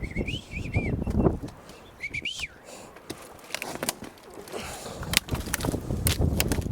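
Birds call in a burnt forest in the game No Man's Land, with short chirps and whistles rising over footsteps and ambient rustling, fairly faint, as people talk quietly in the background.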